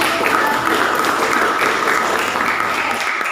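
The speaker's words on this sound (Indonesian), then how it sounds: "Jawaban dari Mbak Tiwi boleh tepuk tangan" A classroom group at a microteaching competition gives a student a round of applause, a continuous close-up patter of many hands clapping at fairly high volume that tapers slightly at the end.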